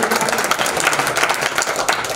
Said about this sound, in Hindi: ऐसे महान गुरुओं के लिए आप सभी लोग एक बार जोरदार ताली बजाकर के अभिनंदन करेंगे